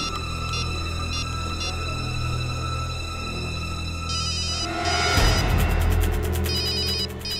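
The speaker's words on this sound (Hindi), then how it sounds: "फोन की आवाज तो यहीं कहीं से आ रही।" A telephone ringtone chirps in repeated bursts over a steady electronic hum, growing louder and busier toward the end. No one speaks.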